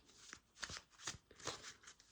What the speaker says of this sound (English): I'm just shuffling so the camera is gonna move.